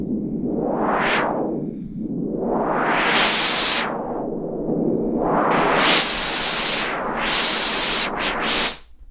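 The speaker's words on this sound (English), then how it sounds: "Now you've got your own white noise" Synthesized white noise passed through a sweeping filter, hissing loudly as it rises and falls in repeated whooshing sweeps, some slow and broad, others quick and high, before cutting off abruptly.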